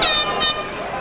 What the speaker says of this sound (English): Oh, the air horns are in here.